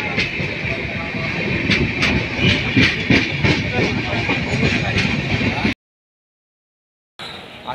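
The Konkan Kanya express rolls into a railway station with loud rhythmic clickety-clack of wheels and a hissing rumble of carriages, sustained and close, before cutting abruptly to silence.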